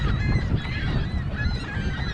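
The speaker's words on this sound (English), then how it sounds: "The birds." Geese honk over a lake on a morning hunting outing, a dense, continuous chorus of many overlapping honks from a large flock, loud and unbroken over a steady background.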